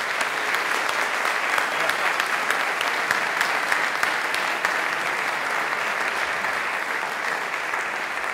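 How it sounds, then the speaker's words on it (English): A large audience at a conference closing session claps steadily and loudly, a dense continuous applause that holds throughout without pause. "I give you a huge applause to all of them"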